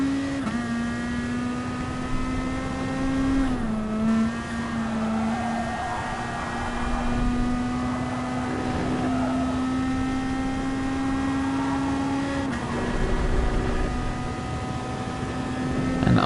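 Group 2 touring race cars in a racing video game on the Dragon Trail circuit: a steady, droning engine note held at high revs, dipping briefly on shifts, continuous and close.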